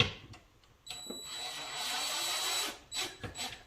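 A power drill drives screws into a wall: one sustained whirring burst lasting nearly two seconds, followed by a few shorter, choppy bursts, fairly close and with no talking.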